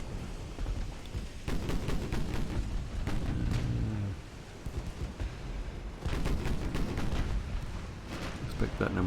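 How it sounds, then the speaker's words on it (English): Small-caliber naval gunfire in Ultimate Admiral: Dreadnoughts, a dense run of sharp shots and booming impacts that rolls on almost continuously. It dies down briefly in the middle and then picks up again, with rumbling low end beneath. "It looks like it's being hit by small caliber fire here at the moment, not large caliber."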